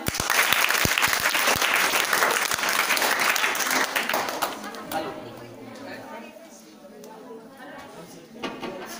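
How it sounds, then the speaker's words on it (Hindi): A village audience at a science show debunking magic tricks applauds the water-fire trick: loud, dense clapping for about five seconds that fades into scattered claps and murmuring voices, with a brief burst near the end. "पानी में आग लगाना वाला जादू आपको सबसे अच्छा लगा, उसके लिए तालियां।"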